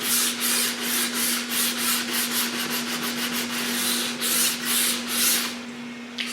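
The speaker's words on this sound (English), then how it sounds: "just let the sandpaper do the work" Steady hand sanding with sandpaper on a Mandalorian jetpack prop part, a close, continuous rhythmic rasp of quick back-and-forth strokes that runs unbroken before easing near the end.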